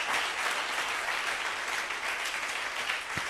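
A church congregation at a Friday evening miracles and prophecy service applauds, a dense, even wash of clapping from many hands that holds steady and fairly distant throughout.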